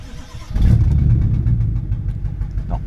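A BMW M5 engine tries to restart: a starter-and-engine burst kicks in about half a second in, then a rough, steady low running drone holds for the rest of the short stretch, nearby and alone.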